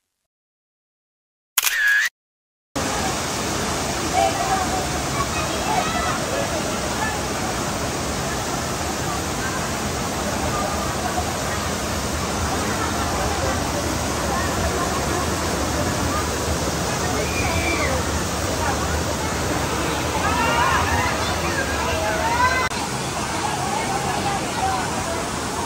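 A clear stream tumbling over a small waterfall at Villa Gregoria Resort in Nagcarlan, Laguna gives a steady, close rush of flowing water that begins after a brief burst and runs unbroken to the end.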